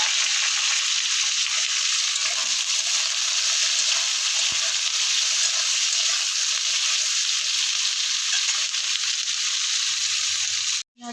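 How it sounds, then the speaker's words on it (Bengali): Onions fry in hot oil with whole spices (cumin, cloves, cardamom, bay leaf and dried red chilli), giving a loud, steady, close sizzle that runs unbroken before cutting off abruptly at the end. "পেঁয়াজ ভাজা ভাজা হয়ে গেছে"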